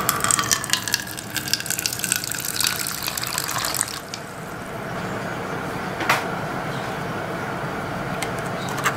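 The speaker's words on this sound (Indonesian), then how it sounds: "Masukkan air." Water poured into a bowl, a loud close gushing stream for about four seconds, then a softer continuous trickle with a small splash, no talking.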